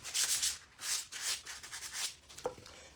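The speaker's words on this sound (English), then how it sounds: "we need to just hit it with a little bit of sandpaper here and burnish out any of that adhesive" Sandpaper rubs across a stencil to burnish down its adhesive, giving several short, soft scratchy strokes in an uneven rhythm, close and quiet.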